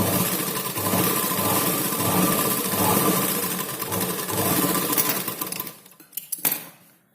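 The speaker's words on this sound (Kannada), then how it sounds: "ಈಗ ಬ್ಲೌಸ್ ಬಟ್ಟೆ 1 ಪಟ್ಟಿ ಮೇಲೆ ಈ ರೀತಿ ಲೈನಿಂಗ್ ಬಟ್ಟೆ ಪಟ್ಟಿ ಇಟ್ಕೊಂಡು ಇಲ್ಲಿ ಸೈಡ್ ಅಲ್ಲಿ ಒಂದು ಹೊಲಿಗೆನ ಹಾಕೊಳ್ಳಿ" A sewing machine stitches a lining strip onto blouse fabric, giving a steady, close mechanical whir that runs for about five seconds before stopping, with no talking.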